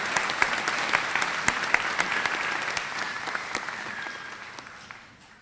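An audience at a high school graduation ceremony gives steady, dense applause to welcome a speaker, then fades out toward the end with no voices over it.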